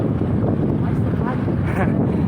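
Steady wind buffets the microphone in a constant low roar during a bike ride, with faint movement beneath.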